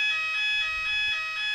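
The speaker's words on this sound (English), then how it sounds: "It's a mock fire alarm." A mock fire alarm sounds continuously, a loud electronic tone pulsing in a steady repeating pattern and filling the whole moment on its own.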